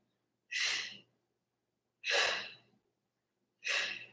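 Three forceful breaths out during oblique crunches in a core workout, evenly spaced about a second and a half apart, close and breathy, with no talk over them.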